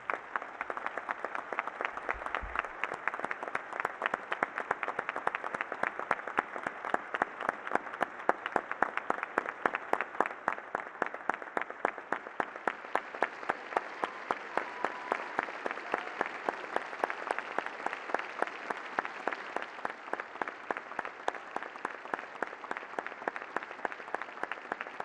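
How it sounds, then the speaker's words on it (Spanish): A long, sustained round of rhythmic applause fills Mexico's Chamber of Deputies, the many hands settling into a steady, even beat that continues throughout at moderate level. "Así, con un minuto de aplausos, la Cámara Baja reconoció la labor de los ciudadanos"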